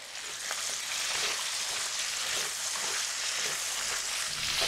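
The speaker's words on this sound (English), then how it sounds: "let's start adding our stuffed bhindi. And give it a very gentle stir." Stuffed okra (bharwa bhindi) frying in oil in a pan while being gently stirred, producing a loud, continuous close sizzle with faint soft scrapes and no voices.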